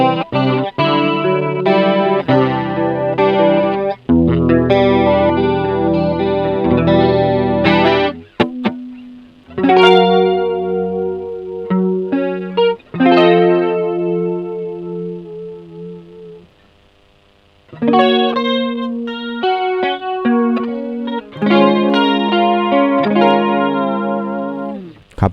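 Electric guitar played through a budget Kokko chorus pedal: shimmering, slightly wobbling chords and single notes, loud and close, with pauses between phrases.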